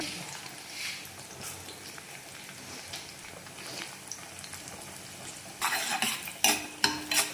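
Chana dal, cumin and mustard seeds frying in a pan on low heat, a steady close sizzle with light stirring that swells near the end into louder crackling and spoon clatter.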